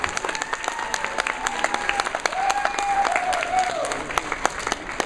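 Audience applause at a closing ceremony, a sustained round of many hands clapping with sharp individual claps standing out and crowd murmur beneath, fairly close and steady throughout.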